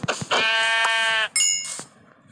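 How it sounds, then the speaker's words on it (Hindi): A goat in Minecraft gives a drawn-out, buzzy bleat lasting about a second, followed by a shorter second bleat with a metallic ding, all loud and close with no talk over it. "ओए बकरी आ जाए"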